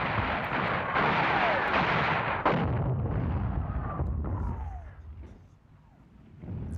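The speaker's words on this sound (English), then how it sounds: "Opening fire on the bunker." Artillery fire on a bunker, heavy continuous booming and rumbling blasts that roll on for several seconds, then thin out into fading distant thuds before another rise.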